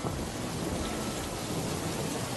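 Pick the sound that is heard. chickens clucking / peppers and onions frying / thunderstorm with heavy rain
thunderstorm with heavy rain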